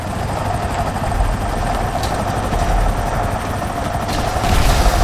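A helicopter in the video game GTA 5 gives a loud, constant rotor-and-engine roar throughout, with faint bursts of gunfire mixed in.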